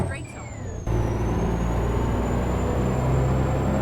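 Mack R truck pulling in American Truck Simulator, a steady loud engine drone with a high whine that rises, then holds even for several seconds after a brief quieter start.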